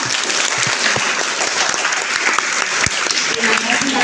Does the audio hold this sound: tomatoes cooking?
no